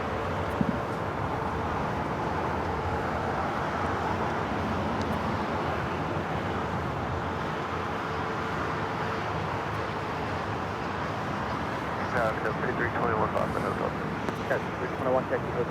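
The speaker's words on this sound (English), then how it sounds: "This is Alaska Airlines 1430 taking off to Los Cabos on the 737-900ER." An Alaska Airlines Boeing 737-900ER takes off from LAX, a steady, broad jet roar running the whole time with a voice talking over it.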